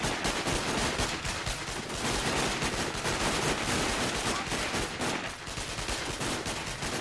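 Dense, sustained automatic gunfire from the shooter game Sniper Ghost Warrior, loud rapid bursts of shots rattling continuously with barely any gaps for about seven seconds.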